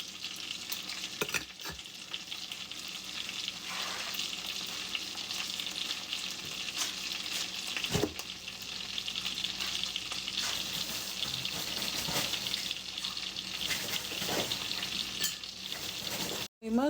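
Bacon and parmesan-topped salmon fry together in a pan with a continuous crackling sizzle, broken by occasional spatula knocks and scrapes, ending in a brief sharp clatter.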